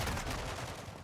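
Rapid automatic gunfire rattles in the video game Warzone, a dense, steady burst of overlapping shots lasting about a second, moderately loud and close.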